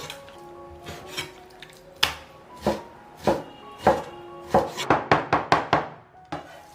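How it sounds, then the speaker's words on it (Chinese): A cleaver chops pork on a cutting board with sharp, close thuds, sparse at first and then quickening into a rapid run of about a dozen blows. "然后再剁碎。"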